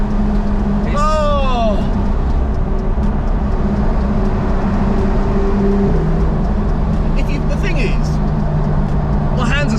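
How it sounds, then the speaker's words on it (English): A Porsche 911 GT3 RS Weissach with a PDK gearbox drives along, its engine a loud continuous drone heard from inside the car as people talk over it. "It sounds like a race car."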